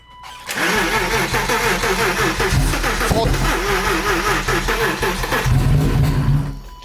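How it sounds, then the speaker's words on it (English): A BMW E34 with a fuel problem starts and revs, its engine roaring loudly and close with a wavering, uneven note and rough sputtering pops throughout before cutting off. "It's backfiring. It did backfire. A flame came out."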